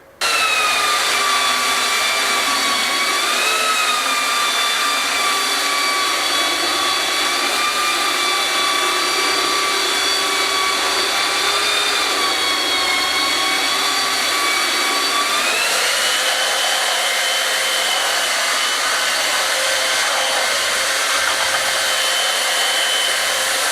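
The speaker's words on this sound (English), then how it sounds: "I'm going to sand these down before I fix them in place" Power sander working wooden boards for an old courtyard renovation, a loud, steady whine with a high motor tone that dips and shifts in pitch a few times as pressure changes, running nonstop throughout.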